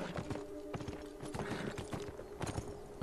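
Horse hooves clip-clop in a steady, fairly loud rhythm in the Beyond: Two Souls video game, with a faint tonal hum running underneath and no talk.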